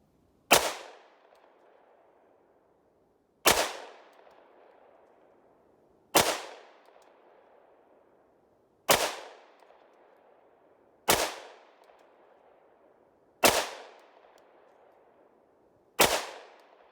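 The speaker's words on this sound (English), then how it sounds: "And I'm gonna shoot all these single action." .460 Rowland pistol fired single action, seven loud, sharp shots spaced roughly two to three seconds apart, each with a short decaying echo and no talking.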